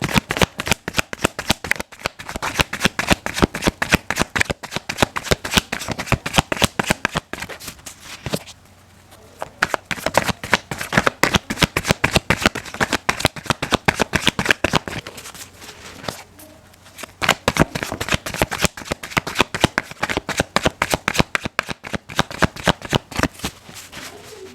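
Tarot cards shuffled by hand close up: fast, continuous riffling slaps in long rapid bursts, broken by a short pause partway and another later, with no talk.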